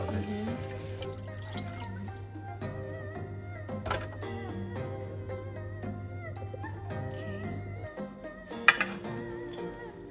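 Water pours and splashes into a blender with soaked soybeans for tofu, running steadily with dripping and trickling and a low mechanical hum beneath, close and fairly quiet.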